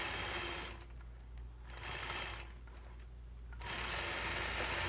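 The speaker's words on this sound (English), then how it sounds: "I'll stitch in the ditch around the yellow triangle, where then I'll again stitch those evenly spaced straight lines." A sewing machine stitches a quilt block in the ditch and along straight lines. The steady, close whir runs throughout, dipping briefly twice as the stitching slows and then resumes.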